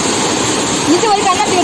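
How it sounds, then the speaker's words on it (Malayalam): The Kottakkal waterfall gives a steady, close rushing roar of falling water that fills the whole moment, and faint voices drift over it. "അപ്പൊ നേരത്തെ പറഞ്ഞ വെള്ളച്ചാട്ടം ഇതാണ് കേട്ടോ"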